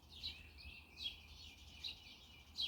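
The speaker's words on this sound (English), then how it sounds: "The birds are singing." Birds sing in a green spring garden with rhododendrons, a few faint, distant chirps and tweets spaced out over a quiet background hum.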